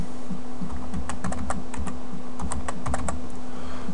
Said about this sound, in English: what I can do now is type in a brand new password.